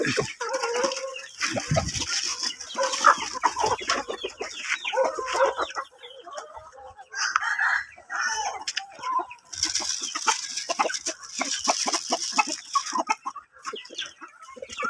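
Free-range heritage battlecock gamecocks and breeder chickens cluck steadily at close range on a backyard farm, with busy overlapping calls and an occasional crow rising through the flock noise.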